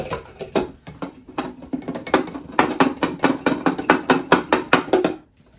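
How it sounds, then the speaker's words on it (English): Raw potatoes are shaken with plain flour in a container to coat them. A fast series of close rattling, thumping knocks comes in rhythmic bursts for about five seconds, then stops abruptly. "give that a good shake so it sort of coats your potatoes"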